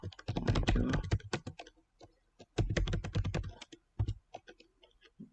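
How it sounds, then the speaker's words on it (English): Rapid keystrokes on a computer keyboard while typing a document in MS Word 2016, close and crisp, in quick bursts separated by short pauses. "So I open a new page, then I will type my name as it is"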